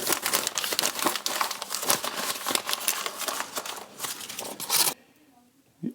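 Paper is crumpled by hand to set a fire in a fireplace, with dense crackling rustles for several seconds, then quiet with a faint touch at the end.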